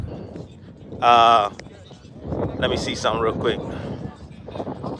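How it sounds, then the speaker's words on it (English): Wind buffets the microphone outdoors with low, uneven rumbling while someone talks briefly; a sharp burst of gusty noise cuts in near the start. "It is windy out here. I'm sorry about the wind."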